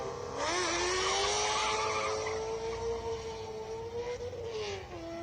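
A classic Cobra accelerates away up a hillclimb course, its engine note climbing steadily and loudly through the revs, holding strong and fairly close before easing slightly near the end.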